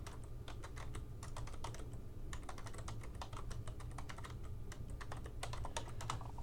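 Someone types on a computer keyboard, a quick irregular run of close, crisp key clicks that continues without pause, with no speech.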